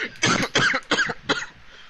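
Four harsh coughs in quick succession, close and loud, trailing off into a quieter rasp.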